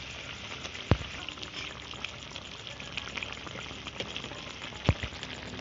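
Fish slides into a pan of brinjal with mustard paste and water, giving a soft, steady simmering hiss. Two sharp plops or knocks stand out, one near the start and one near the end.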